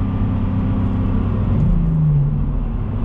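A car engine blips up for heel-and-toe rev matching, a loud interior hum with a short rising rev in the middle that settles back, heard alone without talk.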